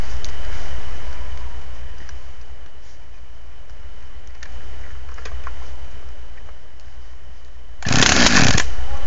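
Chainsaw running steadily at a distance while felling a tree, a continuous low drone under faint outdoor noise, then a loud close burst of revving near the end.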